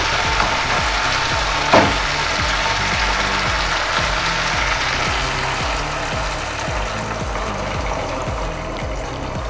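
Water poured into a pan of hot spiced oil for a Bengali bhetki fish curry with potato, cauliflower and peas, giving a steady loud sizzle and bubbling hiss with a brief splash near the start.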